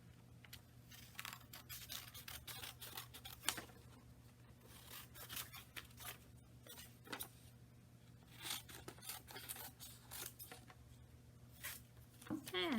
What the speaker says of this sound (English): I'm going to take my scissors and cut out my shapes by cutting along the lines on